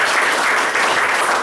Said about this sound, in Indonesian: Kasih tepuk tangan luar biasa